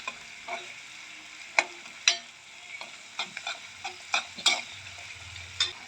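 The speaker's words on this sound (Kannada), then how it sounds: "ಸ್ವಲ್ಪ ಹೀಗೆ ಫ್ರೈ ಮಾಡ್ಕೊಳ್ಳಿ ಆಯಿತಾ." Onions and green chilies fry in a pan for cabbage Manchurian, a quiet continuous sizzle broken by sharp spatula clicks and scrapes against the pan, with no voices.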